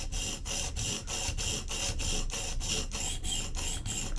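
A Koenig Arius knife is sharpened on a stone in quick, even back-and-forth strokes, about two or three scrapes per second, close and gritty, with no talking.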